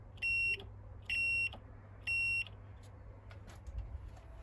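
Multimeter beeping while testing car switch wires: three short, evenly spaced high-pitched beeps over a low background hum, followed by faint clicks and handling noise.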